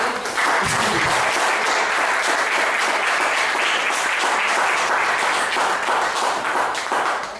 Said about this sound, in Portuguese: Então dê uma salva de palmas pro Senhor aí.